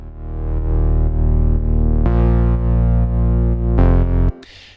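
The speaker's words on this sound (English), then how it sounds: "we're using wavetable, 2 oscillators, both using the saw wave." Melodic house synth bass from Ableton Wavetable with two saw-wave oscillators, loud buzzy sustained bass notes pulsing in a steady pattern, changing pitch twice before cutting off abruptly.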